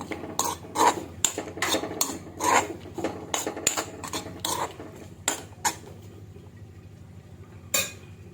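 Beetroot thoran with turmeric and salt is stirred in a pan, with a metal spoon clinking and scraping against the pan in quick repeated strokes, close and fairly loud, slowing toward the end.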